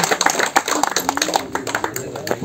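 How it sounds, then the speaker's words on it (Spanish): Applause at a bass fishing tournament awards ceremony at Presa El Nogalito, Cerralvo: a scattered patter of hand claps with taps and voices mixed in, fairly close and steady over a couple of seconds. "Un aplauso, Rafa."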